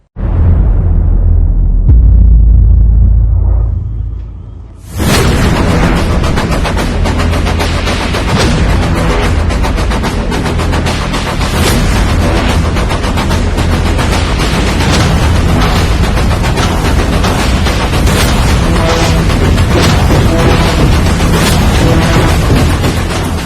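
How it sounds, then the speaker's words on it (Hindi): Russian bombardment and artillery fire hit Ukrainian cities including Kyiv: a heavy boom opens the clip, then after a brief lull comes a dense, continuous barrage of sharp, loud blasts and rapid gunfire-like cracks. "कीव समेत यूक्रेन के कई शहरों में रूसी सेना की जबरदस्त बमबारी जारी है"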